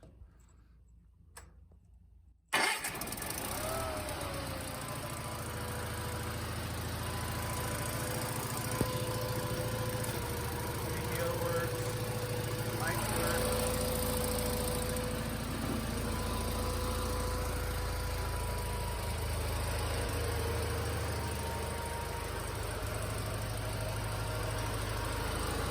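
A Bolens QT16 garden tractor engine cranks and catches after a couple of seconds of near quiet, then settles into a steady, loud, even idle with a faint ticking rhythm that runs unchanged to the end.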